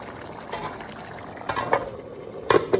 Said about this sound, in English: So now is the time to add our uziza leaf.